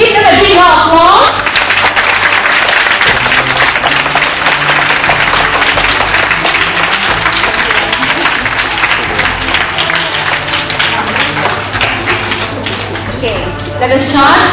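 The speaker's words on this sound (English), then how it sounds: "Give them a big round of applause." Loud, sustained applause from a congregation at a Sunday Buddhist puja gathering, dense continuous clapping filling the room from start to finish without talk.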